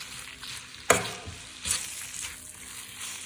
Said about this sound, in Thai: ก็ผัดจนหมูมันสุกเลยนะคะ